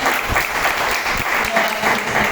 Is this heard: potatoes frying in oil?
no